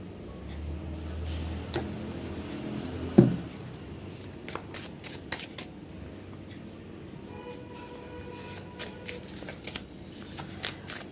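Tarot cards are shuffled and handled close by in a long run of crisp riffles, flicks and taps at an irregular pace, with a low background hum. No one speaks.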